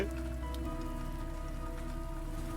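A cartoon rain and storm effect plays as a steady, even wash of rain hissing on surfaces, continuous and moderately loud with no talking.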